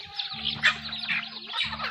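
Several chickens cluck softly nearby at a grandmother's fishpond amid a faint hum, with some chirpy bird calls scattered through the short stretch.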